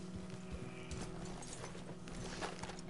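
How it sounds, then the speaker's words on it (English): Horse hooves clip-clop at a walking pace among trees off a trail in the video game Red Dead Redemption 2, a quiet, steady run of soft footfalls with no voices over them. "Horses amongst the trees"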